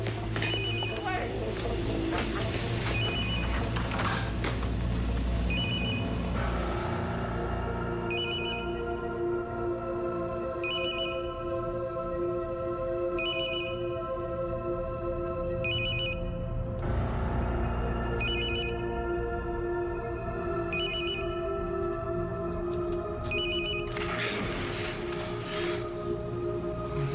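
A telephone rings in repeated bursts of bell-like tones over a steady background, while a distressed voice shouts and talks throughout.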